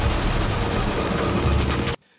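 Dense, continuous burst of rapid gunfire from a helicopter for about two seconds, loud and close, then cutting off abruptly into near silence.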